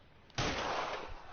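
A single gunshot from the video game LA Noire, a sharp loud crack that rises abruptly and then rolls into a sustained, noisy reverberant tail, with no talking.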